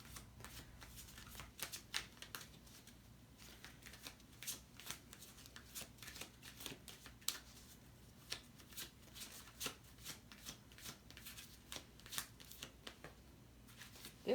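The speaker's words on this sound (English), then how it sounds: "Let's shuffle." Tarot cards shuffled over and over, a steady run of crisp riffling flutters and soft slaps, close and fairly quiet, with no voices.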